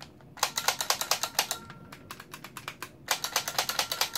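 Nintendo Zapper light gun trigger clicked rapidly again and again, giving close, sharp plastic clicks in quick irregular bursts with a short pause midway.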